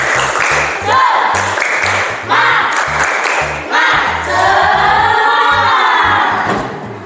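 A group claps in a rhythmic spirit-clap pattern, loud and close, with bursts of cheering voices between the clap sequences.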